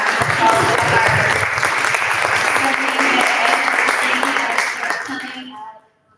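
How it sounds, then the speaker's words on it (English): A conference audience applauds loudly and steadily, the clapping holding for about five seconds before fading out to silence. "please give us a round of applause"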